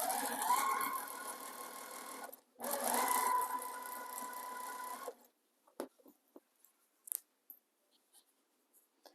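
Sewing machine stitching a raw edge appliqué baby quilt, running loud and steady in two long bursts separated by a short pause, then stopping, followed by faint scattered handling clicks.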